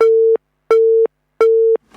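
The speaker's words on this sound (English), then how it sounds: "today our phone lines are not being very, very helpful to us" A telephone busy signal on a radio call-in line: three identical steady beeps, evenly spaced and loud, with silence between them.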